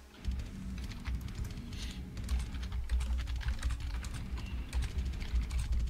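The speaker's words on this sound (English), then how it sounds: "Right now, you hear a lot of typing from all of us." Continuous clatter of several people typing on computer keyboards at once, a dense, steady stream of close key clicks with no talking.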